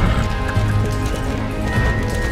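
Galloping horse hooves in the video game Star Stable, a quick, steady clatter of hoofbeats carrying on loudly from start to end.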